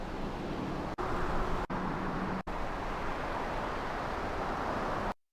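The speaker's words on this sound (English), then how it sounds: "So that's just traffic." Steady, faint city traffic ambience from Vampire: The Masquerade – Bloodlines, a continuous broadband wash of road noise with a few brief dropouts before it cuts off.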